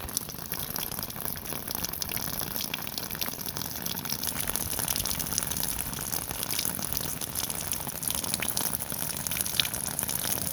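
Steady rushing of water pouring from a hose, a continuous broadband gush at even loudness throughout with no voices.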